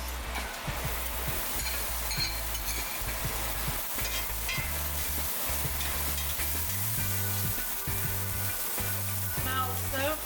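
Shallot, ginger and garlic mix frying in hot oil in a pan for a Thai-style basil beef dish, giving a steady close sizzle with frequent stirring scrapes throughout.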